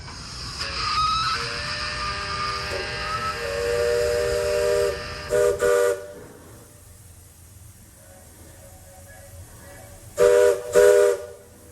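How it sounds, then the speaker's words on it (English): A riverboat's loud steam whistle holds a long, steady chord with hissing steam, then two short blasts, a pause, and two more short blasts. "it's me blowing the whistles"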